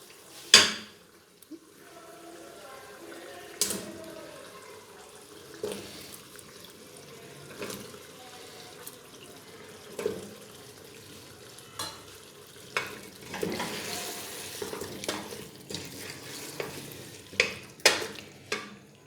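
Chopped turnips tumble into a pot of browned mutton in oil, followed by soft, steady sizzling and intermittent scraping and knocks of a spoon stirring against the pan.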